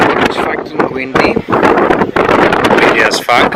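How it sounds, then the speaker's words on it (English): Strong gusting wind buffets the microphone outdoors on Serifos, a Greek island, roaring loud and steady with brief dips, while someone talks over it. "it's fucking windy,"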